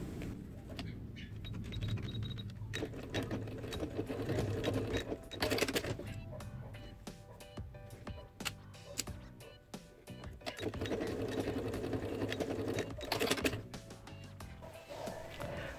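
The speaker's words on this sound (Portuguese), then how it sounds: "eu vou passar uma costurinha aqui na beiradinha de segurança" A domestic sewing machine runs a safety seam along a fabric edge in two long bursts of fast mechanical stitching, separated by pauses with small clicks and handling noises, heard close but fairly quiet.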